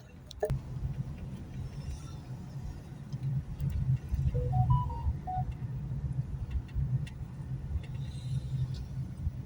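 Street traffic near Kurgovoy in Andijan, Uzbekistan: a steady low rumble of passing cars fills the scene, with a few faint short tones and light ticks rising briefly above the continuous engine noise.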